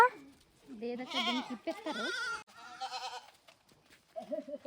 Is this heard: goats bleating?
yes